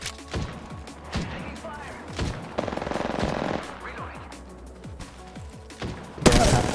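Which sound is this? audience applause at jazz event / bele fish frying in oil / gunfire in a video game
gunfire in a video game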